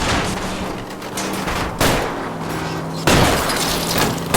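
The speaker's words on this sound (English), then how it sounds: "I'll try to shoot out his tire." In the video game L.A. Noire, shots are fired at a fleeing car's tire, with three loud, broadband gunshot bursts, each followed by sustained roaring noise, alongside a steady engine drone and no talking.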